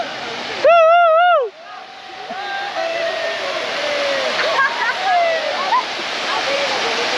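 Steady rushing water at a low-flowing dam in Mindanao, a broad continuous wash throughout, with a voice talking loudly near the start and distant shouts of swimmers faintly audible.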